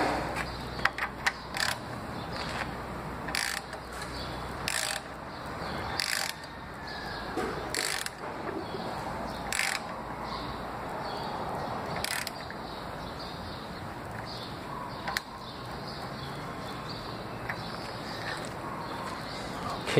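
A hand ratchet turns over a Toyota 1MZ-FE VVT-i 3.0-litre V6 engine, with repeated clicking strokes and pauses in an irregular rhythm over twenty seconds, close by, with light workshop handling noise between strokes.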